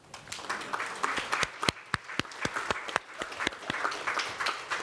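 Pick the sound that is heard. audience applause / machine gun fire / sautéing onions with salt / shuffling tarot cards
audience applause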